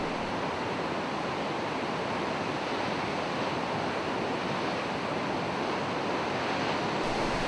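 Waterfall along the Annapurna Circuit trek in the Himalayas of Nepal, a steady, dense roar of falling water that fills the whole stretch without pause, close and loud, with no voices.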